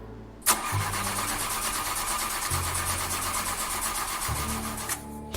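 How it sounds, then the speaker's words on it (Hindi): A car engine cranks repeatedly without catching, in a series of close, loud churning bursts separated by short pauses, with the starter whirring on and off and no sustained idle following. "राजेश ने कार स्टार्ट करने की कोशिश की, पर कार स्टार्ट नहीं हुई।"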